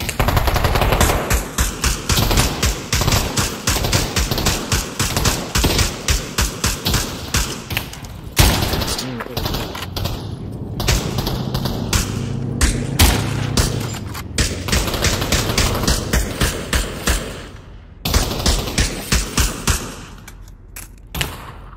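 Automatic gunfire from the Pavlov VR shooter during a team deathmatch, loud sustained bursts and rapid volleys with brief pauses and scattered thuds, dense throughout and easing toward the end.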